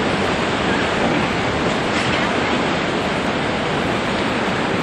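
Roaring whitewater of Class 4 river rapids fills the scene with a constant, loud, dense rush of churning water that never lets up.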